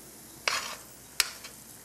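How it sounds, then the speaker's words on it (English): Roux being stirred into a pot of rice for pepper mushroom rice, heard as three short scraping, sizzling bursts, close and moderately loud, with quiet pauses between them. "Now I'm going to put this in there, all of this roux,"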